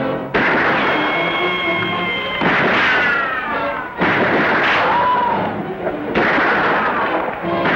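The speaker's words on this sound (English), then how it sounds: "I'll try to explode that gas with these steel-nosed bullets." Old Western gunfire from a rifle loaded with steel-nosed bullets aimed at gas, loud repeated bursts with ringing, whistling ricochet-like tails, several shots spaced a couple of seconds apart.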